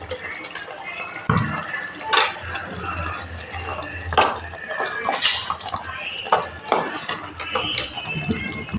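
Paneer and cashew curry moved into a serving bowl with utensils: repeated close metallic clinks and scrapes of a spoon against pans and the bowl, irregular and moderately loud, with wet sloshing between strikes.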